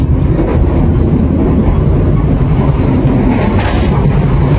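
A retro dining-car train on Java rumbles loudly and steadily, with a heavy low drone and faint rattling of the carriage throughout.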